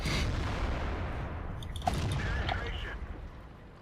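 Tank cannon blasts and impacts boom in a World of Tanks battle, a steady low rumble with a couple of sharp shots, while someone talks over it.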